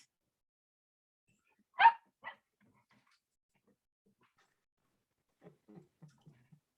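A dog barks twice indoors, one sharp bark followed by a softer one. After a long quiet gap come several fainter, quick yips and whimpers.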